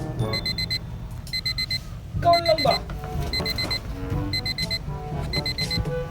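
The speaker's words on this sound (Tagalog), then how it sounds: "Uy, baka na alarm clock ba?" An alarm clock rings in repeated short bursts of rapid beeping, steady and fairly loud, while people talk over it.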